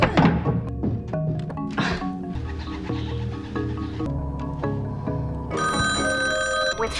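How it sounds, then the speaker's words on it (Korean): An electronic telephone ring trills repeatedly over a busy, cluttered background, growing brighter and more insistent toward the end. "하지만 걸려오는 전화에 매번 실패하고 조이의 전 직장에 전화를 하는 그녀의 스토커"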